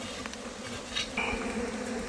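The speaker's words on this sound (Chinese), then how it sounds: "蜜蜂都扎堆在那个角落了" Honeybees hum in a steady, close drone from a nest dug out of the ground, with a few louder passes of individual bees over the buzzing.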